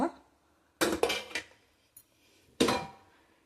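Two steel pans and their shared lid are handled, giving several sharp metallic clanks and knocks in uneven bursts, close and fairly loud, with quiet gaps between.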